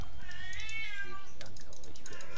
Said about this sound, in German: Und meine Katze jammert extrem.